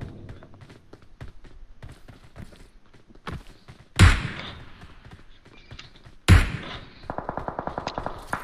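Gunfire in PUBG Mobile around a bridge: two loud, sharp shots a couple of seconds apart, then a quick rattling burst of rapid fire, over quieter clicks and game noise.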